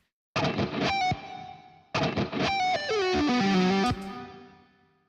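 Electric guitar played through a HyperRig with reverb, two phrases of distorted chords and single notes ringing out, the second ending in a descending run whose tail washes away into a fading reverb decay.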